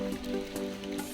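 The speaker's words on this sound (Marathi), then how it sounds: "रिमझिम पाऊस" Light monsoon drizzle falls in a dense forest on the Bhimashankar trek, a soft, steady patter of raindrops on surfaces with no voices, quiet and continuous throughout.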